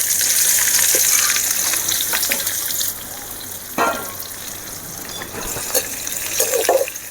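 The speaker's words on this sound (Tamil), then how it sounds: "இப்போ நம்ம இந்த வெட்டி வச்சதை வெங்காயத்தை இதில் கொட்டிக்கலாம்" Chopped onions hit hot oil in a pan for a parotta salna, setting off a loud, bright sizzle that eases after a few seconds into a steadier hiss, broken by a few scraping stirs.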